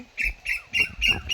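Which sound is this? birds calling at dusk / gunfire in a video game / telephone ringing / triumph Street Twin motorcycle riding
birds calling at dusk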